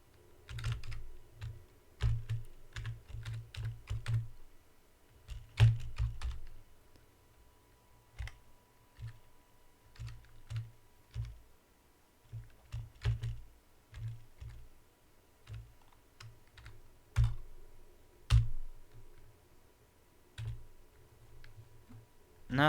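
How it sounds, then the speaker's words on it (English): Typing on a computer keyboard while playing The Stanley Parable, close clicky keystrokes in irregular bursts of quick taps separated by short pauses, with occasional louder key strikes. "How am I typing this wrong?"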